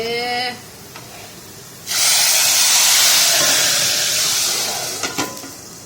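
Garlic tempering (bhagar) hisses and sizzles loudly in a hot pan in a home kitchen, a sudden steady spray of frying noise that slowly eases off, with a few faint clinks near the end.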